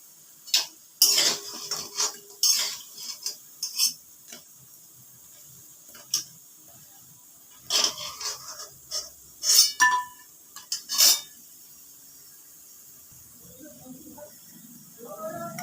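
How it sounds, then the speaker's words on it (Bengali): Fried chickpea lentil fritters are lifted from a pan, heard as scattered metallic clinks and scrapes of a spatula against cookware in irregular bursts, close by, with quiet gaps between. "বড়াগুলো ভাজা হয়ে গেছে, এবার আমি তুলে নিচ্ছি।"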